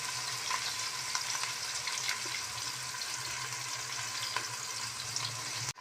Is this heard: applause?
no